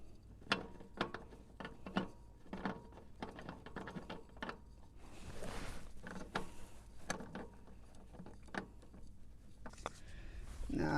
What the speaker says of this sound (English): And we're screwing that filter back on.